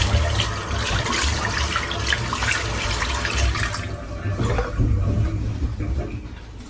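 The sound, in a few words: water tap running, rinsing off with cold water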